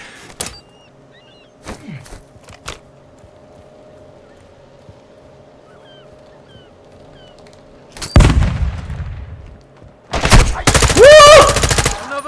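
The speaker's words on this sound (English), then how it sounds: "Who the hell is shooting me?" Gunfire in the video game Call of Duty: Modern Warfare 2, with a few isolated sharp shots early, then a burst of heavy fire and a loud, sustained automatic volley near the end, separated by quiet in-game ambience.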